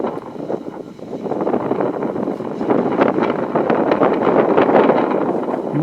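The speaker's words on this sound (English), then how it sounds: "Wind is sure kicking up, don't you think?" Strong wind gusting across a high mountain slope near a glacially fed lake, a loud broadband rushing that builds after the first second and stays heavy, buffeting the microphone with no voices.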